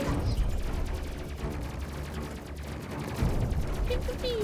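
Rapid gunfire in the Space Crew video game, a dense sustained barrage of shots and blasts with excited voices calling out over the top throughout.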